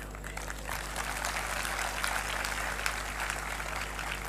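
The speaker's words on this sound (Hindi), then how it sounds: "ताली मत बजाइए" Audience applause: dense, steady clapping from a large crowd, continuous and moderately loud throughout the short stretch, with no voice over it.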